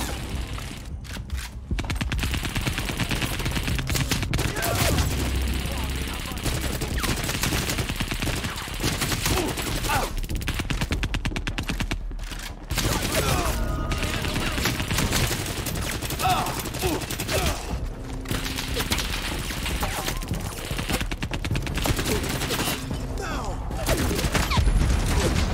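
Rapid, loud 12-gauge shotgun blasts and heavy gunfire in the shooter game CrossfireX, dense bursts running continuously with a voice talking over them.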